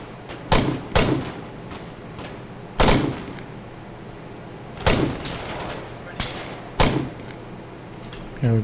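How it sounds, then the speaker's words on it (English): Gunfire in the video game ARMA 3 during a field firefight: five or six loud, sharp reports with rolling echo tails, spaced roughly one to two seconds apart over a low steady background rumble. "Someone else is shooting."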